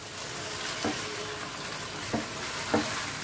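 Poppy seed paste and melon seed paste being stirred into shukto in a pan, a steady close sizzle with three brief scraping strokes of the spoon spaced apart.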